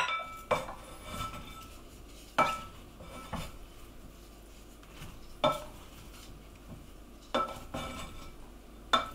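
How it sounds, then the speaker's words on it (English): Broccoli and cauliflower being stirred in a pan, with sharp intermittent clinks of a utensil against the pan and soft scraping between them, close and fairly quiet, no talking. "Stir them in."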